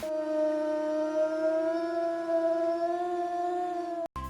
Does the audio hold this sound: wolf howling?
yes